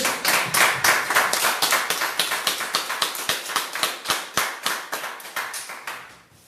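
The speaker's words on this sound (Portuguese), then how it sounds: "Vamos dar uma salva de palmas para essa palavra?" A church congregation claps together in steady unison rhythm, sharp and close, with roughly two dozen claps before tapering off at the end.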